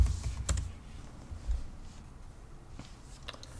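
A password goes in at a Linux login screen with a few scattered keyboard taps, soft and close, separated by pauses over a low background rumble.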